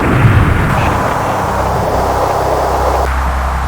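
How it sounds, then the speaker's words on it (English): Howitzer fire in the Fighters Anthology flight game: a heavy low boom bursts out at the start, then a sustained rumbling roar of engines and battle noise rolls on without pause. "Just love the sound of that howitzer firing"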